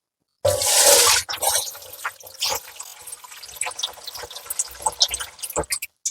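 Water is poured and drained off settled arrowroot starch during homemade Kerala-style arrowroot powder making, a loud splashing gush at first, then intermittent trickles and drips with a voice speaking over them.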